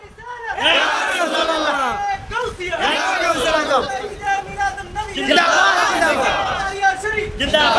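A large crowd at a Bangla religious waz gathering roars a chanted response to a preacher's takbir call, rising in two loud surging waves of many voices.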